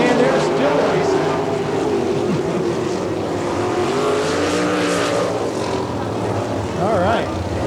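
Sprint cars at the All Star Circuit of Champions Brad Doty Classic on the Attica, Ohio dirt track roar continuously, engines rising and falling as they race past, with an announcer talking over the din.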